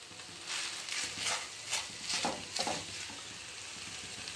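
Boiled cabbage is stirred into sour yogurt in a pan, a soft wet swishing and faint sizzle rising in several gentle waves at low volume.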